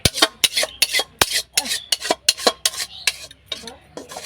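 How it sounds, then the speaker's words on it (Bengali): Metal utensils scrape and clank rhythmically against a pot while a mixed-vegetable vegetarian dish cooks, a fast run of sharp, close stirring strokes with no speech. "নিরামিষ রান্না হচ্ছে, অনেক কিছু দিয়ে, অনেক রকম সবজি দিয়ে রান্না হচ্ছে।"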